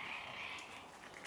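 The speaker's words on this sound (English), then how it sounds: "we're gonna be hearing those frogs all night long" Frogs croaking in a dense chorus at a campsite along the Pacific Crest Trail, a faint continuous trill in the background with no voices.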